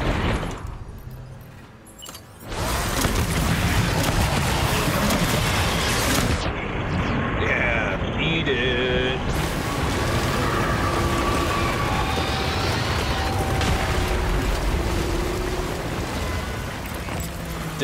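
Grenade explosions in the Death Stranding video game: a loud burst after a brief quieter stretch, then sustained heavy rumbling blasts and crackling debris that stay dense and steady through the rest.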